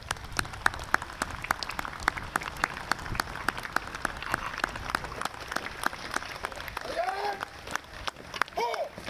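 Scattered clapping from a crowd at a Memorial Day ceremony honoring a veterans' color guard, fairly steady and moderately loud, with murmuring voices in the background throughout.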